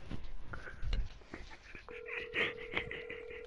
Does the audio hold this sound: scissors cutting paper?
no